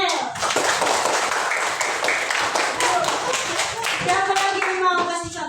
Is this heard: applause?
yes